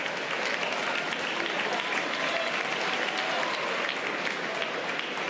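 A comedy show audience claps for a young stand-up comic, a steady, dense burst of applause that stays even and full for several seconds, with no voice standing out.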